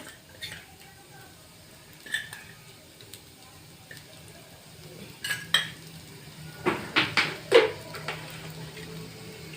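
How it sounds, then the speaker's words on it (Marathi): Diced potatoes stirred and sautéed in a pan for a fasting-day puri bhaji: sparse metal spoon clicks and scrapes against the pan, growing busier toward the end over a faint background sizzle. "हे दहा मिनिटं असं परतून घेतले बटाट"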